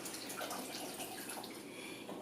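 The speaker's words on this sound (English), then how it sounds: "I'm going to be putting in some Harmless Harvest water right on top." Harmless Harvest coconut water pours over pineapple smoothie ingredients in a blender, a faint, steady watery trickle that runs continuously without talk.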